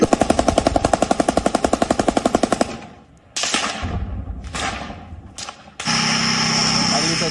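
Rapid machine-gun bursts crack out loud and close during street fighting in Mariupol, Ukraine, a steady automatic rattle that gives way to scattered heavier blasts and roaring noise.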